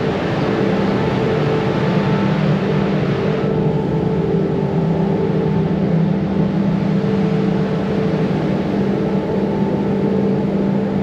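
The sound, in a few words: long freight train passing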